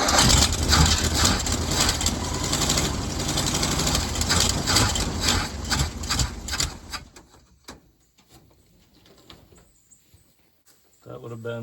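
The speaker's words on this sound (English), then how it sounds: "We'll run this engine a little more and see if we can't get fuel coming through the line." An old Ford dump truck engine cranks and runs roughly for about seven seconds, loud and close, then cuts out to near quiet before briefly turning over again.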